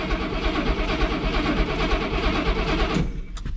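A 1966 Oldsmobile Toronado V8, left sitting for 11 years, cranks steadily on the starter with a rhythmic, loud churning that carries on without catching, then drops off near the end.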